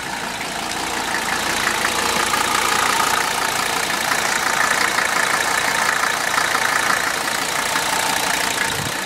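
A 1982 Mercedes 300DT diesel engine idles steadily while warming up, a continuous loud rattling clatter close by with no talk over it.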